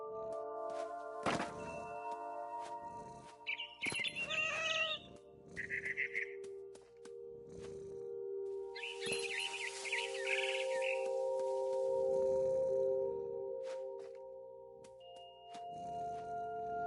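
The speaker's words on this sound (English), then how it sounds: "Then I heard chirping outside my window. It was a barn swallow going back to her nest." A barn swallow chirps outside a window in the video game What Remains of Edith Finch, giving short high twittering bursts among thuds and a low steady hum.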